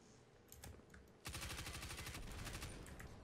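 Gunfire in the Destiny video game, a few scattered shots followed by a rapid loud burst of repeated shots lasting a couple of seconds, with no talking.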